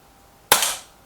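A single sharp crack from an Air Arms S510 Ultimate Sporter air rifle, close and crisp with a brief fading tail, otherwise quiet.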